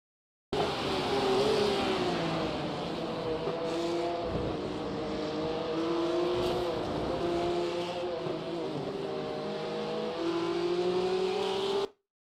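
A Porsche race car in an esports racing game runs at full throttle, its engine holding a loud, steady high-pitched drone for about eleven seconds. Pitch shifts come with gear changes, and the sound cuts off abruptly at the end.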